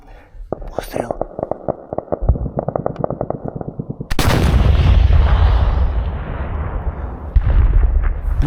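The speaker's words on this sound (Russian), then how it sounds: "Выстрел." A gunshot or artillery round fired in combat, heard during a frontline assault. Quiet whispered talk and a run of rapid sharp clicks come first, then a loud heavy blast booms and rolls on for several seconds, with a second thump near the end.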